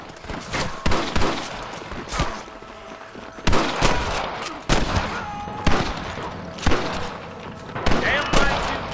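Repeated bursts of gunfire in the Western video game Red Dead Redemption, loud sharp shots and volleys at an irregular rhythm across the whole stretch, with voices talking in between.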